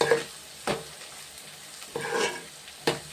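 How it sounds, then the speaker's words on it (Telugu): Curry leaves drop into hot oil in a home kitchen, giving a few short bursts of crackling sizzle spaced apart over a low frying hiss, close and moderately loud. "ఇదిగో కరివేపాకు వేస్తే అండి స్మెల్ అదిరిపోతుంది."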